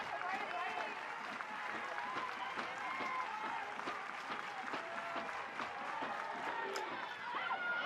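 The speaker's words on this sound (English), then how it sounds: "See if the crowd gets a little louder here" Crowd at an NCAA college softball game in Norman, Oklahoma cheering and clapping in a steady, dense roar that continues throughout, with a commentator talking over it.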